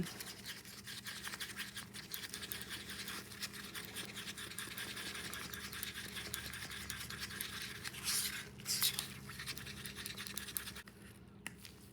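Resin mixed in a cup is stirred with a stir stick, giving a quiet, continuous scraping and swishing. The sound is close but faint and goes on steadily without talk.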